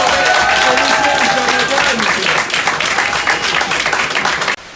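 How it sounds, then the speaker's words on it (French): A loud, continuous burst of audience applause and clapping from a crowd at a live comedy show, sustained and dense before cutting off abruptly near the end. "Il est là, Janagan, un maximum de bruit, messieurs, dames, un maximum d'applaudissements."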